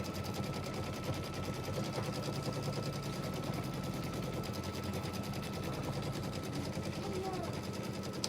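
A sewing machine quilting a quilt on a work desk makes a faint, steady, rapid mechanical chatter that runs evenly throughout with no break.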